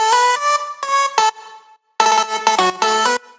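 Future bounce vocal chop lead processed with EQ, a bright pitched vocal synth playing choppy staccato phrases in two groups separated by a brief gap, loud and upfront with no talking.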